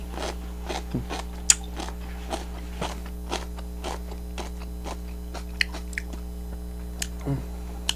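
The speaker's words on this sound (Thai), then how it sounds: "กินกิมจีก่อน" Sharp, crisp crunching bites of kimchi come at irregular intervals against a quiet steady hum, with soft chewing between them. Close and fairly faint.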